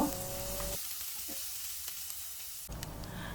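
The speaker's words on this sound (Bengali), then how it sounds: "এখন খুব ভালো করে পেঁয়াজটা আমি ভেজে নিব" Chopped onions fry in hot oil seasoned with black cumin and regular cumin, giving a steady close sizzle that drops quieter in the middle and swells again near the end.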